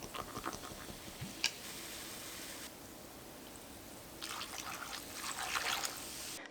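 Cider being poured into a bowl of kkakdugi radish kimchi, a soft steady trickle of liquid with fizzing and a few faint clicks, close and quiet, with no talk.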